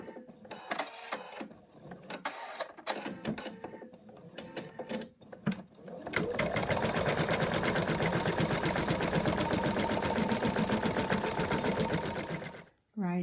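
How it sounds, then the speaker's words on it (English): Embroidery machine stitching out the second colour of a mouse design on taped fabric and stabilizer: a person talks and handles material first, then a loud, steady, rapid stitching chatter runs continuously until it stops abruptly. "Now we're going to stitch out color 2 which secures it."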